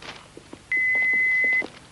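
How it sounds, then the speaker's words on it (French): An answering machine gives a single steady electronic beep lasting nearly a second, clear and prominent above a faint room background, ready for a message to be left. "Laissez-nous un message. Après le bip."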